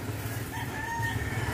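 A rooster perched on a house roof crows in a drawn-out call over steady low background noise outdoors.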